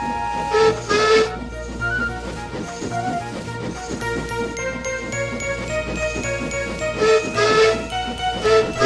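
A steam locomotive whistle sounds in repeated bright blasts over a busy background of hissing steam and tinkling music, loud and close, with no talk.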